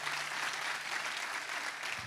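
A church congregation applauds during a thanksgiving service, steady dense clapping filling the room for about two seconds with no voices over it.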